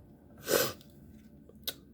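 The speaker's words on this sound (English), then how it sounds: "Excuse my sniffles." A single sharp nasal sniff or snort stands out near the start, followed by a quieter short sniff moments later, close and otherwise quiet.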